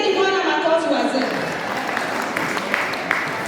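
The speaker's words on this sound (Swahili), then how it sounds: "Pigieni Bwana makofi wazee." Congregation clapping during a Swahili church service, a steady wash of hands applauding throughout, with sustained voices over the clapping early on.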